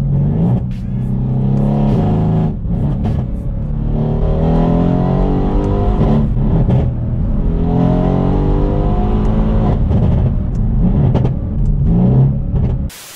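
Mercedes C63 AMG with 510 hp accelerating hard through the gears, a loud, continuous engine roar climbing in pitch with brief drops at each quick upshift, heard close up from inside the car.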